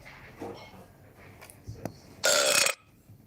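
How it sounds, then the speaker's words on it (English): A loud, rough belch lasting about half a second stands out near the end, preceded by faint scattered mouth and table noises. "We really don't want to hear belching while we're sitting eating our food, do we?"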